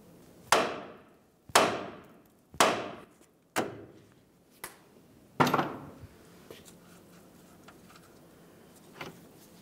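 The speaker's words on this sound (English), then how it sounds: "We're gonna give the knuckle a couple loving bonks right along this area to try to cause some vibration to shake the" Five or six sharp metal bonks from a hammer striking the steering knuckle of a 2010-2013 Ford Transit Connect to free the outer tie rod end, each ringing briefly, loud and close, then fainter taps follow.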